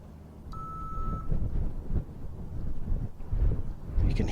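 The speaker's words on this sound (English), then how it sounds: "You can hear the wind on the range." Gusty wind buffets the microphone at an outdoor recurve archery range during a women's gold-medal match, giving a low, uneven rumble that swells and dips throughout, with a short electronic tone near the start.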